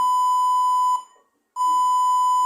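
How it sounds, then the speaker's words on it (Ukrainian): A laptop's internal beeper gives a steady electronic beep tone, cuts out briefly into silence, then resumes at the same pitch, loud and close. "таке пікає, пікає, а потім таке завершення роботи і вимикається"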